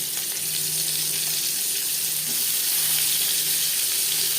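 Oil heating in a kadai wok, already used for frying fritters, before cooking bitter gourd chorchori: a steady, close hiss and crackle continuing alone without pause.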